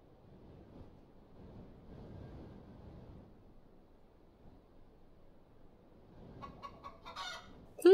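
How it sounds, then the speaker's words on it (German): Chicken being chased and caught in Star Stable Online, a few short clucking calls rising near the end over a low, steady rumble of background noise. "Ich habe das Huhn erfolgreich gefangen und kann das jetzt Madison zurückbringen."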